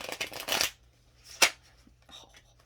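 Tarot cards are riffled and shuffled close by in a quick rustling burst, followed by a single sharp card snap and then quiet handling.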